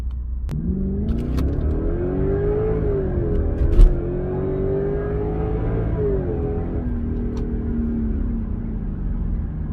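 A Lexus LS460 with its mufflers removed revs hard with a deep, raw, unmuffled growl, rising and falling in pitch over several seconds, loud and close with no talking.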